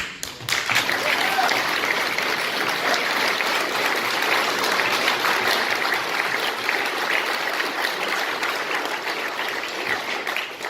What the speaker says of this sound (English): we gave Len a big round of applause, but let's raise the roof for the British Legion.